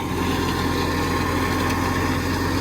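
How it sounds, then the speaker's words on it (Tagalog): A Neplo slide mower cuts grass on a Japanese cabbage farm, its small engine droning steadily and loudly up close with a constant buzzing hum throughout. "using slide mower."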